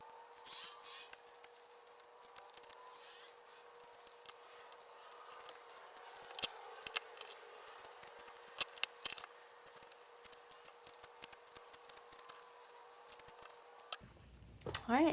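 Scissors snip through excess denim from a pair of jeans, close, with sharp irregular cuts over a steady faint hum, ending with a brief burst of handling noise.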